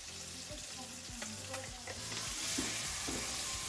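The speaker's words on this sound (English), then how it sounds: "melt 4 tablespoons of butter and sear the pork on all sides until golden brown" Pork searing in four tablespoons of melted butter in a skillet, a close, steady sizzle that swells louder toward the end, with soft spatter crackles and no voices.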